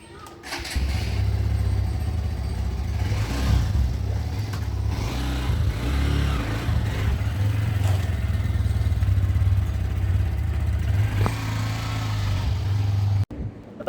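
A car cruises on the Satara–Pune highway, its steady low engine drone and road rumble filling the cabin throughout, with faint rattles over the top before it cuts off abruptly at the end.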